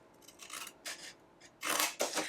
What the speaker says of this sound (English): So we are going to basically cut here and here.